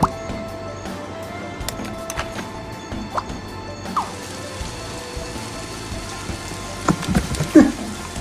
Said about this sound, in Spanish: Lluvia.